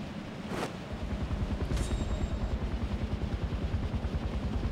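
Helicopter in the video game Far Cry 4, a steady, fast rotor thump that starts after a brief noisy swish and keeps pulsing evenly at moderate loudness, with no talk.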